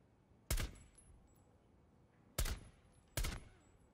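Gunfire in the video game Rainbow Six Siege, three sharp separate shots with short decaying tails, the last two close together, over a quiet background.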